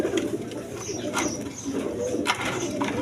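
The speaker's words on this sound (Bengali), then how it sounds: "একবার সুস্থ সবল কবুতর" Several healthy pigeons, among them Rajgolla breed birds offered for sale, coo with low, repeated throaty rolls nearby, with faint higher chirps over a steady background hum.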